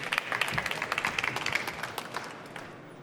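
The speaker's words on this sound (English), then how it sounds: "Big round of applause for Raghu." Audience applause at an ocean innovators pitch event in Amsterdam, brisk crowd clapping that is fairly close and loud, tapering off near the end.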